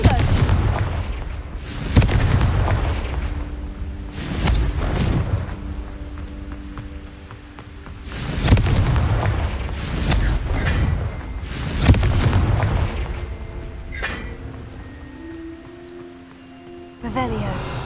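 Confringo spell blasts in the video game Hogwarts Legacy, heavy booming explosions bursting every couple of seconds over a dense, rumbling battle soundscape, with a voice shouting through the fighting.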